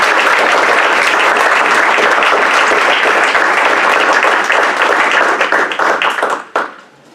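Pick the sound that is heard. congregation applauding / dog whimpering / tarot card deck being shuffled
congregation applauding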